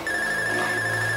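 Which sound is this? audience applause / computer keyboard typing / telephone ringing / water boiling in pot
telephone ringing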